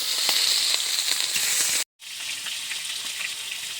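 Fish frying in hot oil in a wok on a clay stove gives a steady, loud sizzle with crackling pops, broken by a brief silent gap before the frying resumes.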